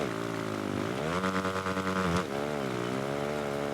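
A motocross motorcycle engine revs hard in MXGP Pro, a steady buzzing drone that climbs in pitch, holds high for about a second, drops abruptly, then builds again, loud and close with no talking.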